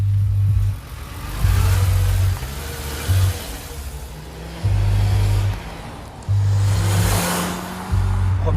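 A Volkswagen New Beetle RSi engine pulls and revs in repeated surges, the loud low drone rising and falling in regular cycles from inside or near the car.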